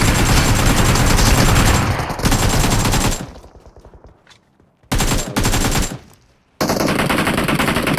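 Automatic cover fire rattles out in a video game, dense bursts of rapid shots broken by short pauses and a stretch of near quiet before the firing resumes.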